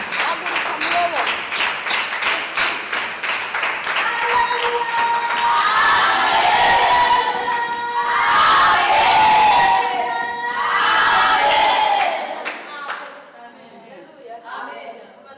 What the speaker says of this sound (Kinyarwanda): Reka haguruke dukomera Imana yo mu ijuru amashyi.